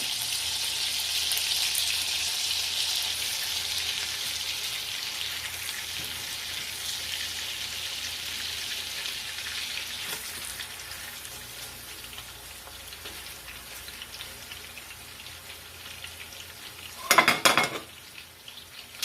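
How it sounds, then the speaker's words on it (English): Chicken sears in a pan over medium-high heat, a strong, close sizzle that slowly fades over several seconds, followed near the end by a brief burst of utensil and pan clatter as it is handled. "You're just going to sear it about 2 minutes on each side on medium-high heat."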